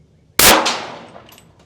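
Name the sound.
380 gunshot hitting a prison door's metal panel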